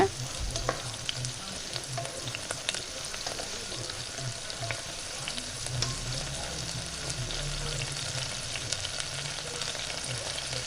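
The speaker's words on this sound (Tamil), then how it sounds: "ஸோ எல்லாம் சேர்த்து நீங்கள் கலந்து விட்டுக்கோங்க." Mushrooms and spices frying in a pan over medium flame, a continuous close sizzle with repeated spoon scrapes and stirring knocks throughout, no voices.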